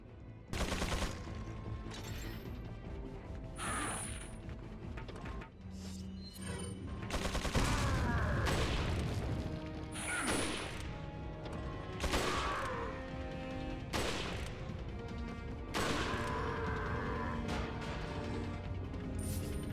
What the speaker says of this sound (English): Wait for JJ to finish firing